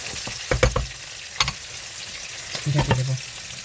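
Salted sea fish sears in a hot pan for a mustard curry, crackling loudly while a spatula stirs and scrapes in a few sharp bursts against the metal.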